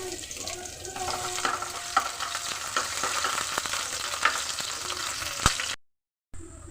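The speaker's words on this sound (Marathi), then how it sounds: "आता आपण हा कांदा चांगला तेलामध्ये परतून घेऊया" Chopped onion with cumin sautes in hot oil for a soybean curry, a steady close sizzle broken by scraping stirs and clicks, ending in a brief silence.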